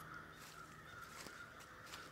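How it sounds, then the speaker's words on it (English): Two ravens out in a hidden sanctuary, one cawing faintly at a distance several times over a steady background hiss, with no talking. "There's two ravens there."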